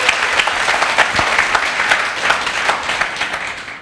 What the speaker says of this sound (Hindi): एक जोरदार तालियां होनी चाहिए भगवान के लिए.